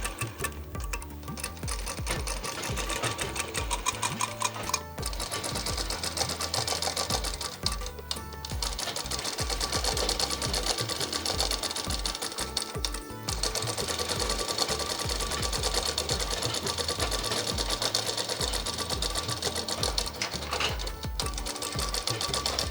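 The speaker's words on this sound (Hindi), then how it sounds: "इसे डबल फोल्ड करते हुए पूरी गोलाई से इसकी सिलाई कर लेंगे" A sewing machine stitches a double-folded sleeve hem on a frock with a steady, close whirring hum, interrupted by a few brief pauses before each run restarts.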